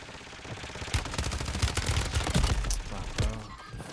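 Rapid bursts of gunfire in the Call of Duty Warzone video game, dense overlapping shots and automatic fire crackling continuously for a few seconds.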